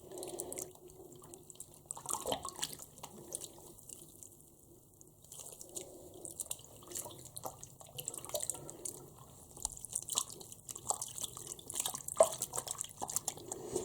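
Water drips and splashes intermittently and softly while a Jack Russell terrier is bathed, with small trickles and patters scattered throughout and no talking.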